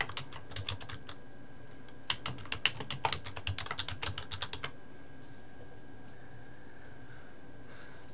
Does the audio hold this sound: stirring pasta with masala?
no